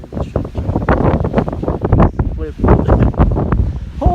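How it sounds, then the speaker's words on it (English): Strong gusts buffet the microphone on a Doe Mountain hike in Sedona, Arizona, a loud continuous roar of wind with rumbling low-end bursts, and a person talks over it. "I think the wind is trying to push me off the edge."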